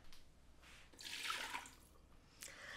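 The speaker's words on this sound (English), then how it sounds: "Putting 1 cup of water," Water is poured into a Ninja Foodi pot: a short splashing, trickling pour that swells in the middle and then tapers off, heard on its own at moderate level.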